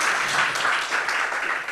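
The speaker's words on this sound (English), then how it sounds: "Round of applause for Alex Kealy, everyone" Festival audience gives comedian Alex Kealy a round of applause, a loud, dense, continuous wash of clapping from many hands filling the short stretch with no speech.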